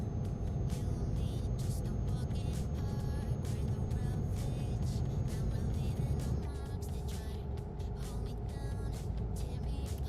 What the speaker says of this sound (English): we've got 2 lorries overtaking me